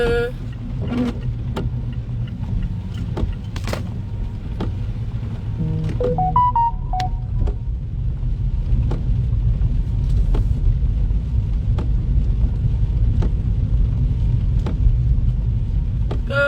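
A car drives along the road with a steady low engine rumble and road noise throughout, interrupted by occasional clicks, taps and brief tonal beeps inside the cabin.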